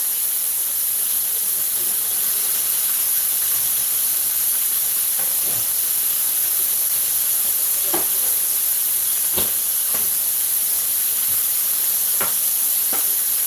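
Butter sizzles in a hot pan before white rice is cooked, giving a constant close hiss broken by a few faint clicks and pops.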